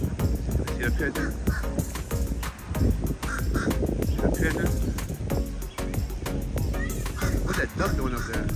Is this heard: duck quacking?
yes